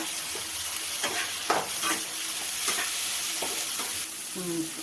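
Tomatoes frying in a pan for Maggi noodles, stirred with a spoon: a continuous bright sizzle broken by several scraping stirs, close and fairly loud, with no talking.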